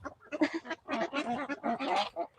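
Geese and ducks honk on a farm during evening chores, a dense, continuous run of loud nasal honks and calls close by with no talking.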